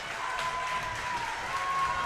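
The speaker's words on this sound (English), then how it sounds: "Crowd getting into it." Crowd cheering and applauding at a Franklin vs. Kenyon volleyball match near the final point, a steady, fairly loud roar of noise from the stands throughout.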